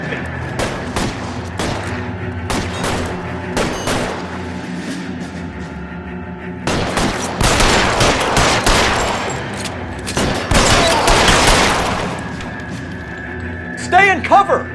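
Bursts of gunfire from a shootout in the video game L.A. Noire, with scattered single shots early and then dense, loud volleys of rapid fire, mixed with shouted in-game voices.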